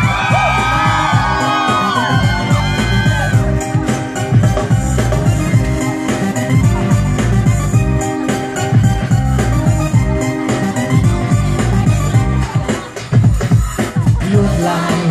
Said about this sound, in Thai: ขอเสียงกรี๊ดหน่อยครับผม